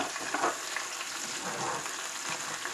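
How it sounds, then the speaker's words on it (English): Sausage frying in a pan with gravy mix stirred in gives a steady, close sizzle and crackle, with soft stirring scrapes running throughout. "I add the mix to the sausage,"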